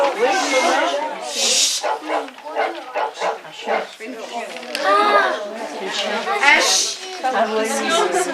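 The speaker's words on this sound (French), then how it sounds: "Un chien." A dog barks and whimpers in a recording played back for a class, heard through several bursts with chattering children's voices mixed in throughout.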